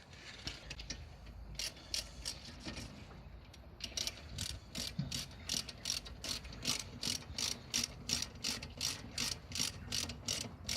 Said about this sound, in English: just used 12mm socket